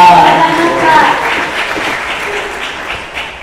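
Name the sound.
audience applause at a pitch event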